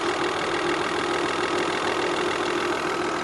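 A Volvo 960 engine idles steadily up close, giving a constant even drone with a faint rapid ticking underneath and no change in speed.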